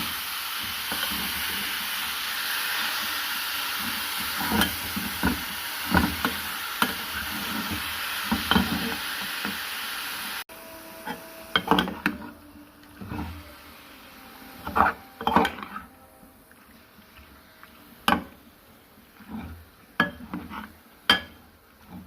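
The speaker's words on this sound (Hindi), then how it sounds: "और अब मैं इसको हल्का सा फ्राई करूँगी।" Chicken strips for shawarma fry in a pan over medium heat, a steady close hiss and sizzle broken by repeated scraping stirs; the sizzle drops to a quieter level partway through while the stirring clicks continue.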